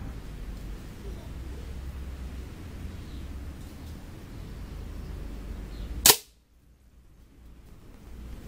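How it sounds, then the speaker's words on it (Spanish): A steady background hum, then one sharp crack of an air rifle firing an Apolo or Gamo pellet at 15 metres, followed by sudden near-silence as the noise cuts out. "Voy a disparar a una distancia de 15 metros."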